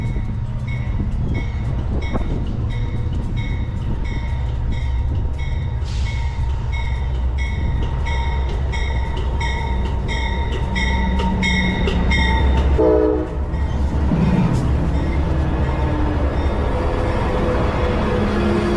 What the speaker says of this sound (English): The 98 Silver Meteor making its way into Sebring Amtrak station.